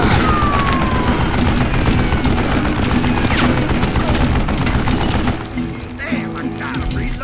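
An old man fires a gun in the Call of Juarez: Gunslinger game, a dense, sustained barrage of loud rapid shots and cracks that suddenly drops off near the end.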